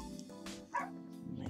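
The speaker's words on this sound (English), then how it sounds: "The dog's outside the door barking for her." Near, brief yips and whimpering barks from a dog waiting outside a closed door, a few quick vocal bursts over a short moment.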